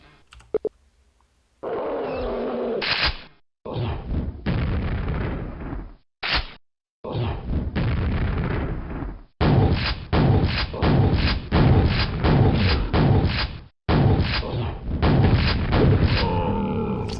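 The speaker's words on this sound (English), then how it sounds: "2 is alternating projectiles explode, and then the 3 is random exploding projectiles" Projectiles exploding in the Quake progs_dump 3 mod, loud thudding booms in quick bursts, some alternating and some at random, packed closely with short gaps between clusters.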